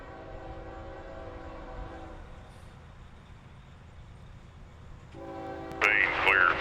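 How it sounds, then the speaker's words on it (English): Norfolk Southern southbound freight train passing by, a steady rumbling roll with a sustained horn tone that fades midway, then returns louder with a brief squealing burst near the end. "I was able to be ready and waiting for this southbound train"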